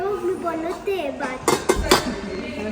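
Steel utensils at an outlet store in Europe clink and clatter against each other in a few sharp, close metallic knocks, heard beneath someone talking.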